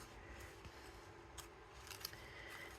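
Faint, sparse snips of scissors cutting paper for a die-cut gift bag, quiet and close against a soft room background.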